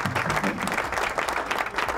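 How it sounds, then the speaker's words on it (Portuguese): Warm applause for a guest at the start of a sports-themed podcast, a short steady burst of clapping from a small group, close and even throughout. "Palmas para ele!"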